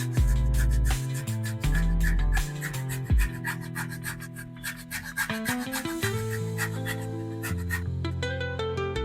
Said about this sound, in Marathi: आता ती किसणीवरती बारीक असं किसून घेते मी.